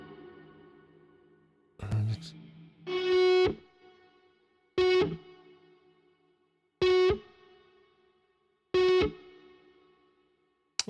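Electric guitar played through a Polychrome DSP Nunchuck effects pedal with reverb: a strummed chord, then four evenly spaced bright distorted chord stabs, each cut short and ringing into a faint reverb tail.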